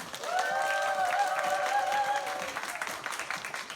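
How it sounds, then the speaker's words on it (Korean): An audience at a diabetes health lecture in Incheon claps to welcome a speaker to the stage, with a sustained tonal sound ringing over the first half before the applause thins out. "큰 박수로 맞이해 주시면 감사하겠습니다"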